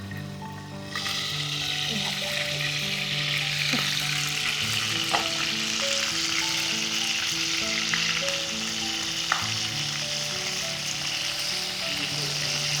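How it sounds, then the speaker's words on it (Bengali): Wrapped chicken kebab fries in a pan, a steady close sizzle of hot oil with a few faint clicks and taps from cookware. "দুটো পিঠে এরকম লালচে করে ভেজে নেব।"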